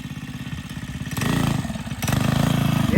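A 2005 Baja Warrior mini bike fitted with a big cam for an off-road drag build runs loud and close during a wheelie, its pulsing single-cylinder note surging higher in two stepped revs.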